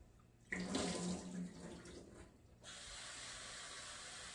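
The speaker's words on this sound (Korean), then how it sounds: "물에 담가가지고 깨끗이 헹궈줄게요" Rice rinsed under running tap water while preparing bean sprout rice, a close rush of water into a bowl that swirls and splashes, then a steadier hissing stream from the faucet.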